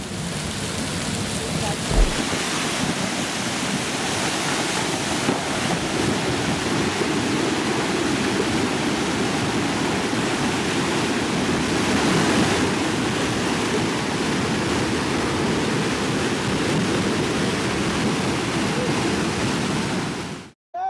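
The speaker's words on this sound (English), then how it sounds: "Behold, the world's dirtiest waterfall." A dirty, muddy waterfall roars steadily as a dense, continuous rush of falling water, loud and unbroken for the whole stretch, with no talking.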